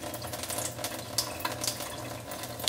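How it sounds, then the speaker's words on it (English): Water runs steadily from a Tyent 9000T water ionizer spout, a continuous close splashing stream with faint clicks near the end. "Face washing water comes out."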